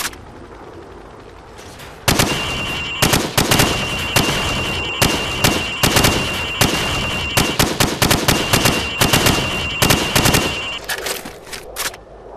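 Rapid rifle fire on a shooting range in Call of Duty 4, with bursts of loud, close shots in quick irregular succession over about ten seconds after a quiet start, no talk.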